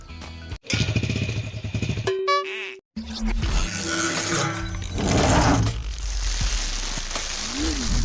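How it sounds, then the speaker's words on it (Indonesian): Motorcycle engine is started and revs loudly up close, a rough droning roar with brief gaps, then settles into a steady running rumble. "Inilah tips cara menghidupkan motor yang mendadak mati."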